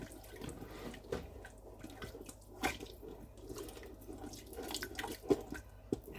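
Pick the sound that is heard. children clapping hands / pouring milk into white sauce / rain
pouring milk into white sauce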